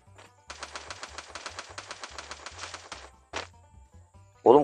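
Gunfire in a firefight rattles out as a long rapid burst of automatic shots, then a single louder crack and a final heavy blast, all fairly close with no speech over it.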